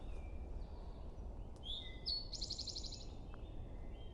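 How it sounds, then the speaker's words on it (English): An eastern towhee sings a short phrase: a couple of sharp introductory notes followed by a rapid buzzy trill, heard at a moderate distance over steady outdoor background noise. "This towhee's making a lot of noise."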